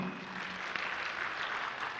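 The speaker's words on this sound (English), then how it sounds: "Clap for him." Audience at an outdoor UDA public participation rally in Eldoret clapping for a professor after his talk, a fairly faint, steady patter of hands lasting about two seconds with crowd murmur underneath.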